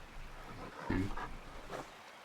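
A wolf in a video game sniffs at the ground, giving a few soft, breathy snuffling bursts that are fairly faint against a low background.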